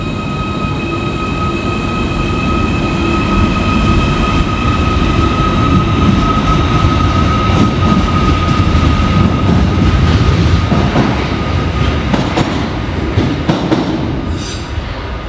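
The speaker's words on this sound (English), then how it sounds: "Train now to depart is 77708, working the 1324 Merseyrail electric service from Liverpool Central through to Chester." Merseyrail electric train 77708 pulls out of a station, a steady rolling rumble with a sustained electric whine and faint wheel squeal, fading slightly near the end.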